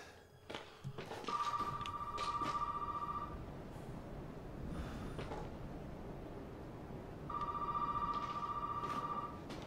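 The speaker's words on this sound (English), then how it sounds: "When all else fails, do not answer that phone." Telephone ringing inside the Resident Evil 7 video game: two sustained bursts of bright electronic ringing, each about two seconds long, at moderate level over ambient game noise and footsteps.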